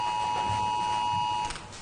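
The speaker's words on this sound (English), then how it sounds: "it sounds like an Amber Alert on my phone" A mobile phone emergency alert tone, a steady loud electronic beep sounding continuously for about a second and a half before cutting off, heard in a courtroom.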